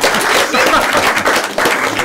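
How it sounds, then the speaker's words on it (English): A crowd claps steadily in a dense, loud round of applause that fills the whole moment. "let's give the children a round of applause."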